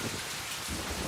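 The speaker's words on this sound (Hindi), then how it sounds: "कितनी प्यारी बारिश हो रही है।" Heavy rain pours in a steady, dense wash with a low rumble underneath, close and continuous, with no voices.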